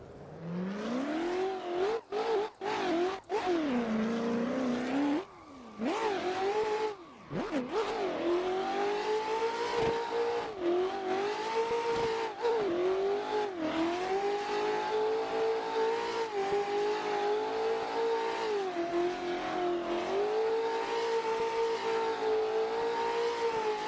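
Race car engine in a racing game at Fuji driven from a second-gear start, revving hard through quick upshifts with brief gaps, then holding a loud steady high-pitched drone with small dips under lifts and braking.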